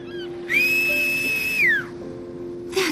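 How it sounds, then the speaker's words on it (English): A single clear, high whistle from a character in the game World of Final Fantasy rises, holds steady for about a second, then slides downward, heard alone over a faint background hum. "You ever whistle?"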